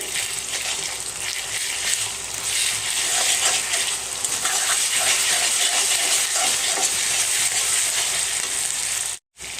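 Ginger and garlic paste sizzles steadily in hot oil in a pan while chicken kosha curry is being made, a dense, even hiss that stays loud and close throughout, with no talking.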